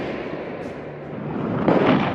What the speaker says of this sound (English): A huge explosion of water blasted 30 meters into the air